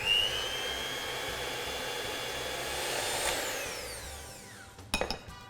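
An electric mixer whirs steadily as it creams softened butter and sugar for a sticky toffee pudding, giving a continuous motor hum with shifting pitch that ends in a few clattering knocks.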